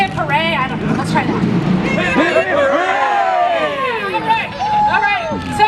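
A rally crowd of tenants shouts and cheers in unison, loud overlapping voices in repeated bursts, close and sustained throughout.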